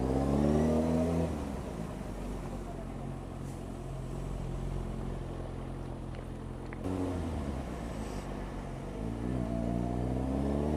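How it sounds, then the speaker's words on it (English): A motorcycle exhaust revs loudly at the start, settles into a steady drone, then revs up again near the end, close and continuous. "quite happy with the exhaust now"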